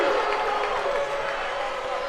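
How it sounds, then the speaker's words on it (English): A video-game wrestling crowd from WWE 2K roars and cheers in a steady, dense wash of noise during a match, with a commentator's voice faintly present beneath it. "Fyremin trying to amp up the crowd here for Pro Sonic Fire"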